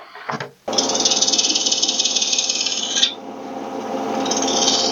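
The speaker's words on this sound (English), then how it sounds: "I'm just starting here, kind of rounding over using the bowl gouge" A bowl gouge rounds over a wooden piece spinning on a lathe, making a steady raspy scraping cut for a couple of seconds, then a brief pause and a lighter cut, close up with no talking.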